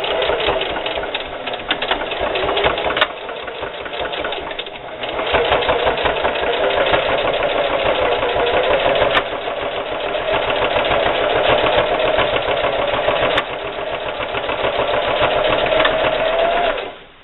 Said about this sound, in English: with that same straight stitch, about 1/8 inch in on the fabric, we're going to sew backstitching at the beginning and the end